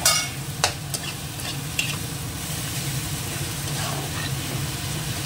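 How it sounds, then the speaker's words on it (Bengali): Ginger paste sizzles as it is stirred into hot oil with garlic and green chili paste, a steady close frying hiss broken by a few sharp scrapes of the spoon. "এবার দিয়ে দেবো আদা বাটা।"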